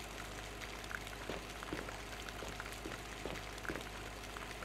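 Water being pumped in the survival horror game Resident Evil HD, heard as a faint, steady gurgling and bubbling with scattered small splashes throughout, with no speech.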